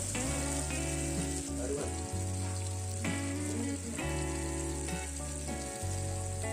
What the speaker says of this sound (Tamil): ஓரளவு எறாவும் மசாலாவும் சேர்ந்து ஃப்ரை ஆகிடுச்சு, அதனால் திருப்பி போடுங்க